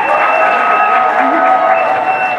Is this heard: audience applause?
yes